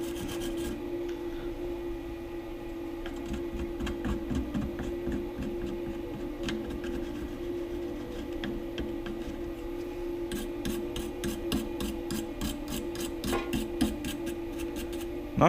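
A 6040 CNC mill scratches a shallow cut into stainless steel, giving a steady rasping, rubbing grind with a motor hum beneath and quick ticking pulses, constant and close throughout with no voices.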